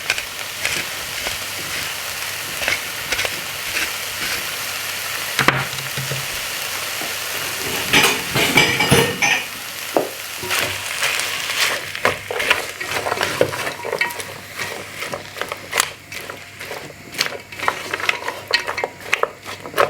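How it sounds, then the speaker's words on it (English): Beef browns in a hot pan with a continuous sizzle and frequent clattering stirs and scrapes of a utensil, close up and growing busier as the meat sears. "then literally just kind of brown the beef no longer than 3 to 4 minutes"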